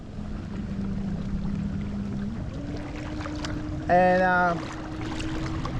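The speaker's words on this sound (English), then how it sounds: "The new Port Vessel 3 horsepower engine" A Port Vessel 3 horsepower outboard engine on a skiff runs with a steady low drone. A brief brighter tonal whine rises over it midway, and a voice speaks briefly.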